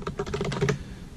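A quick burst of keystrokes on a computer keyboard entering a password at a VMware ESXi login, several close, crisp clicks in a rapid run lasting under a second, then quiet.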